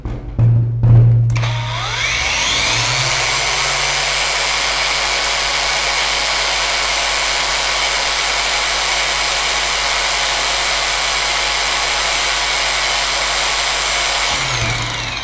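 A Ronix 8901K cordless brushless angle grinder spins up after a few clicks and runs free at full speed, a loud steady high-pitched whine close by for over ten seconds before winding down.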